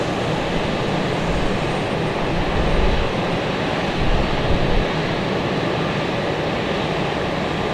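A JetBlue Embraer E190 jet arrives at Raleigh-Durham airport with a loud, steady broadband engine roar that stays close and continuous throughout, rumbling under wind-like noise.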